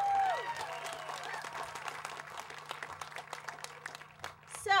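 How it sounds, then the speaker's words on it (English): Applause at a rally, a thin scattered clapping from a modest crowd with a few cheers at the start and end, moderately close over a low steady hum. "Please give her a round of applause."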